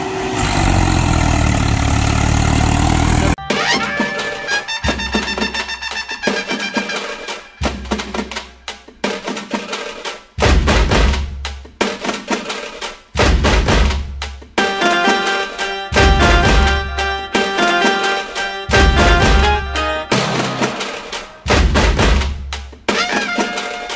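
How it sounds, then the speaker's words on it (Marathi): A tractor loaded with sugarcane runs in a field. Its engine opens with a loud, broad roar, then settles into a rhythmic series of low chugging bursts with steady mechanical tones between them. "तुम्ही बघू शकता आता आपला ट्रॅक्टर निघालेला आहे उस भरून."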